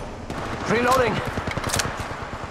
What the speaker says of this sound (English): Opening fire. You're in view of the enemy. Opening fire.